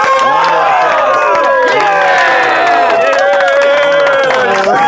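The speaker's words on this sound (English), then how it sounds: "I gotta give you one more applause." A surprise cheer squad cheers, shouts and claps for AJ in a loud, sustained burst, with high excited voices and whoops layered over the clapping throughout.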